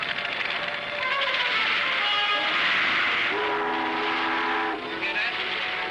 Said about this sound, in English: Sounds like a boat whistle.